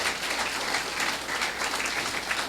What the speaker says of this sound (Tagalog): Palakpak naman dyan. Yung malakas ng malakas.